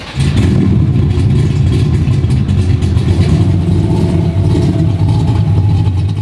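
A track-built 1965 Ford Mustang Fastback with JBA Tri-Y headers rumbles loudly and steadily with a deep exhaust note as it pulls in, holding close by for several seconds without letting up.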